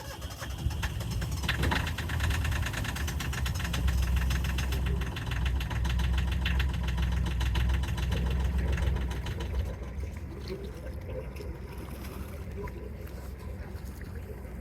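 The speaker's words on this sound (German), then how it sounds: "Motor läuft wieder." Boat engine cranks and catches after sitting unused through winter cold, then runs at a steady rumbling idle, with water splashing out and brief talk in the background.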